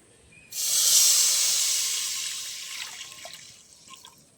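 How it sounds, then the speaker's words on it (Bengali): Milk poured into a hot wok after frying bursts into a loud hiss that starts suddenly, then slowly fades into a softer bubbling simmer with small pops. "এই দুধটা একই কড়াই আমি দিয়ে দেবো"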